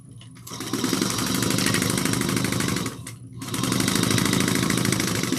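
A sewing machine stitches tote bag seams in two rapid, steady runs of close mechanical chatter, separated by a brief pause.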